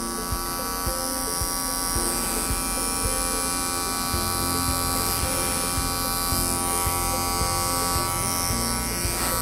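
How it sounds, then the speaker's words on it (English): An electric dog clipper trims a poodle's tail, giving a loud, steady, close buzzing drone that runs unbroken throughout, with faint textured changes as the blade moves through the coat. "we're going to get a nice smooth finish with our clipper work"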